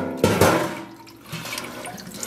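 Water splashes and pours in a kitchen sink as the water is changed during kettle dyeing of wool roving, two quick gushes at the start then a softer trickle running on.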